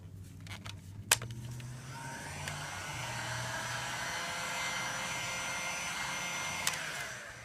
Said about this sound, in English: when we hit it with the heat gun